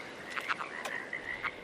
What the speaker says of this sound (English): This is a Cascades frog.